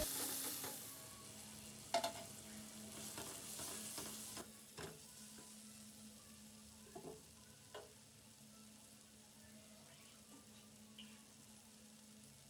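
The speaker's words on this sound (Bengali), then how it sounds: "টমেটো এবং পেঁয়াজটা একটু ভাজা ভাজা হয়ে গেলে তাতে নুন, হলুদ, ধনে গুঁড়ো, জিরে গুঁড়ো এবং লাল লঙ্কার গুঁড়ো দিয়ে ভালো মতো এগুলো ভেজে নেব" Tomato, onion and ground spices including turmeric, coriander, cumin and red chilli powder fry in a pan for begun bahar, a quiet steady sizzle broken by a few sharp spatula scrapes and taps.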